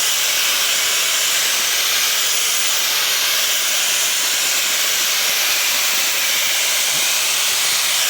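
Fanttik BF10 Pro cordless blower on its high setting clearing light snow, a loud, constant close-up rush of air with a bright hissing edge and no pauses.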